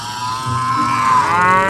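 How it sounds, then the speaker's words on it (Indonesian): Cow mooing as a toy sound effect, one long drawn-out moo, loud and close with no talk. "yang ini ada sapi. Sapi mo."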